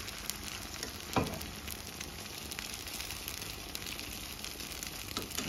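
Food frying in a pan, a steady close hiss and crackle of sizzling oil with small spits and pops throughout, one brief louder clatter near the start, no talking.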